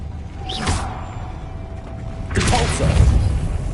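A Flipendo spell is cast in Hogwarts Legacy: a short whooshing burst followed by a louder, thumping magical impact a couple of seconds later, close and punchy.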